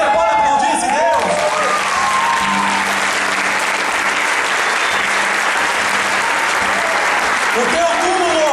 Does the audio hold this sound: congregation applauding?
yes